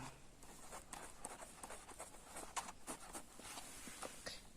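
Pen writing an answer on an exam paper, soft close scratchy strokes in an irregular rhythm, faint and without talk.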